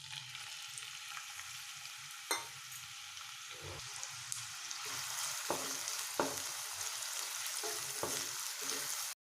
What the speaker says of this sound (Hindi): पियाज फ्राई कर नबा।